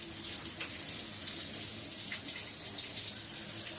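A tap runs steadily into a sink while a beard is wetted, a constant close hiss and splash of water with no talking.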